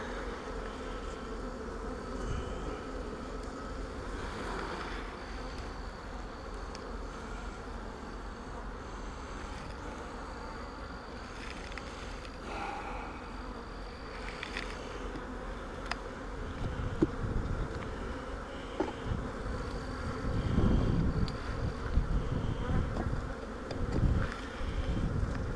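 Honey bees buzzing around an unsmoked hive as a beekeeper works, a steady insect drone with individual bees passing close by, getting louder and busier toward the end.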